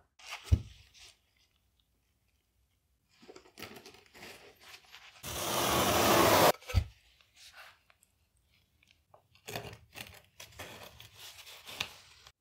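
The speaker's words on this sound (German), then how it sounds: "mit dem speziellen Werkzeug, was normalerweise beigelegt ist, noch einmal unsere Befestigung hier etwas fester anziehen" Special tool tightening a tile leveling system clip while laying floor tiles: scattered short clicks and ratcheting sounds, with one loud sustained grinding stretch in the middle, close up and with no talking.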